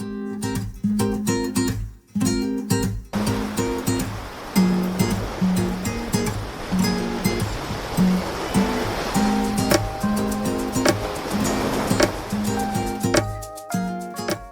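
Water rushes steadily through the Puerto Princesa underground river in the Philippines, a broad continuous flow heard beneath prominent background music.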